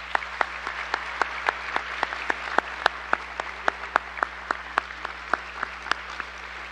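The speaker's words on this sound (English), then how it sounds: "Please join me in applauding them." Steady, sparse audience applause at an eighth-grade school celebration honoring faculty and staff, with evenly spaced individual claps carrying through a quiet hall, moderately distant and alone without talk.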